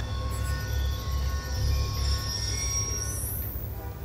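A passing train in the Call of Duty: Black Ops 2 campaign produces a heavy continuous low rumble with high metallic wheel squeal that rises in pitch near the end, steady and close.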